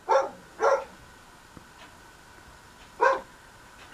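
A dog barks outdoors near a house, three distinct yips or woofs, two in quick succession and one more after a pause, moderately close over a quiet background.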